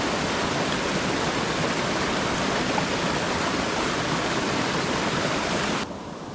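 Lost Creek on the Timberline Trail around Mt Hood, a steady, loud rush of flowing mountain water heard up close, cutting off abruptly near the end.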